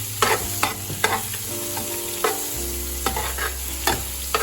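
Onions fry toward golden in a pan for chicken biryani, a close, steady sizzle under a low hum, with a spoon scraping and stirring in regular strokes roughly every half second to second, and no one speaking.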